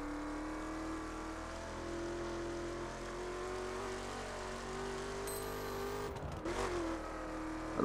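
A car's engine hums steadily at high speed in The Crew, a faint sustained drone with a rising whine before a crunching impact near the end.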